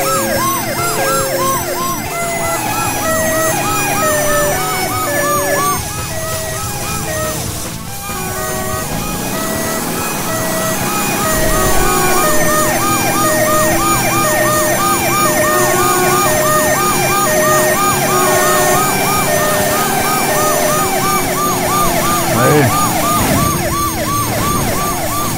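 Wailing police and ambulance sirens from the PS1 game Driver 2, set in Las Vegas, cycle loudly and continuously over game engine noise, with the warbling pitch sweeps repeating throughout a car chase.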